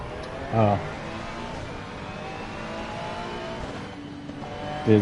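Ferrari 296 GT3 race car at Silverstone in a racing video game, its engine droning steadily throughout with revving bursts near the start and end, while voices talk over it.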